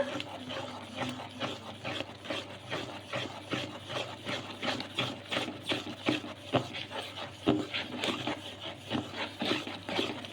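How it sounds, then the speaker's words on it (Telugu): Cake batter stirred in a bowl until no lumps remain makes a quiet, continuous rhythmic rubbing and scraping, stroke after stroke, with no voices. "ఇలా మొత్తం కూడా కలిసేలాగా కలిపేసుకోవాలి."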